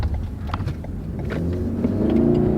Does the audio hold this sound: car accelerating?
yes